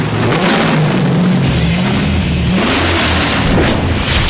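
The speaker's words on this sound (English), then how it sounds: "There's nothing like the sound of a true Hemi." A Hemi V8 engine roaring loud and close, its pitch rising and falling through revs in a continuous heavy drone with no talk over it.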